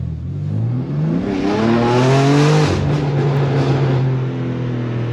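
A BMW G80 M3 engine with a Valvetronic exhaust revs hard in first gear, pitch rising steeply, dropping briefly at a shift, then climbing again, loud and close.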